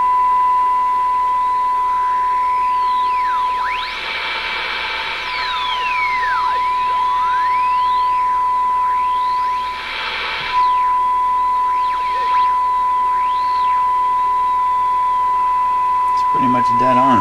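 A steady pure test tone from a frequency generator sounds through a Canadian General Electric KM-5 vacuum tube radio during alignment, holding through static, swooping heterodyne whistles and bursts of noise as the radio is tuned, with a sharp clatter at the end.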